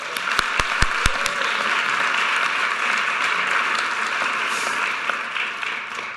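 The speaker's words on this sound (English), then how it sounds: "please join me in a round of applause for Dr. Bies, the entire faculty and staff of Georgetown" A large audience applauds steadily at a Georgetown graduation ceremony for D.C. public school leaders, with a few sharp close claps at the start before the wash of clapping continues evenly throughout.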